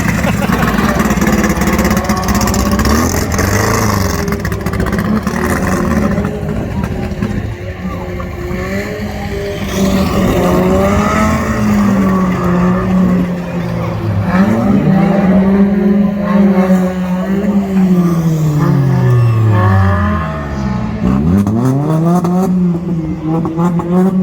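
Banger racing cars including an old MG on the oval at Lochgelly Raceway in Scotland, with engines revving and pitch swooping up and down, tyres squealing, and a commentator talking over the din.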